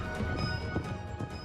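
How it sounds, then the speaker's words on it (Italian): Hooves of a messenger's horse galloping, a continuous busy clatter of hoofbeats with a loud, dense texture and no voices. "quindi manda subito un messaggero a cavallo verso i paesi baltici"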